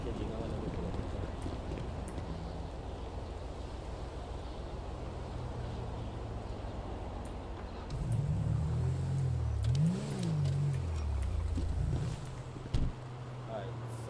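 A car engine in FiveM, the GTA V roleplay mod, idling and then revving up and down through a few accelerations, moderately loud beneath someone talking.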